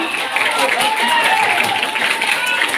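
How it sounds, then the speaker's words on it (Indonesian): Junior high school students in a classroom applaud, a dense, steady wash of many hands clapping together, with voices mixed into the noise. "tepuk tangan"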